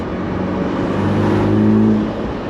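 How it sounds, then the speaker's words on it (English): A Morgan sports car's engine revs hard during a test drive, a loud steady drone rising in pitch and swelling toward the end, heard up close from inside with no talk. "Let's get this engine working a little bit harder."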